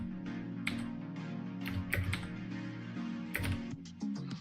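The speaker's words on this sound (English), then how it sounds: "you can see I'm typing space in certain cases to make things loosen up a little bit" Computer keyboard typing, including space-bar presses, in a steady run of light clicks over a constant tonal background hum, close and moderately loud with no talk.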